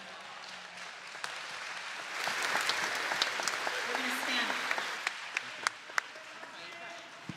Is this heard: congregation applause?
yes